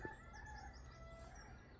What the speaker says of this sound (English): can hear local cockerel there crowing away